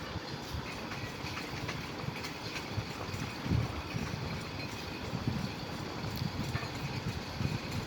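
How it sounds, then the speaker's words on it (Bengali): A passenger train in Bangladesh eases its speed as it rolls across a railway bridge, a steady dense rumble of wheels with faint irregular clatter, heard continuously and fairly close with no talking. "এখানে এসে হালকা স্লো করলো ট্রেনটি।"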